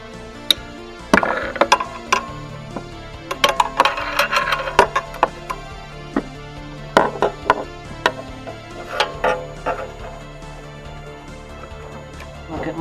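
Ratchet clicking while loosening engine parts deep near an intake manifold, with irregular bursts of clicks and metallic knocks, close, under occasional talk.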